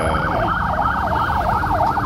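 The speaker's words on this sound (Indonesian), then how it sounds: "itu ambulan bersiulan ya" An ambulance siren wails continuously in a crowded street during the Surabaya Vaganza festival, its steady up-and-down sweep loud and close above a low rumble of street noise.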